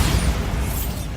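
A Bombarda spell explosion in Hogwarts Legacy lands as a single loud, close, deep boom with a heavy low rumble and no voices over it.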